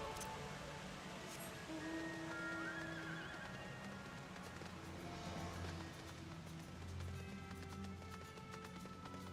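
A horse mount in the video game Final Fantasy 14 whinnies, with clip-clopping hooves and game ambience running steadily underneath.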